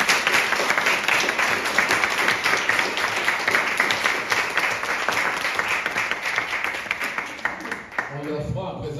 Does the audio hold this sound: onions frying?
no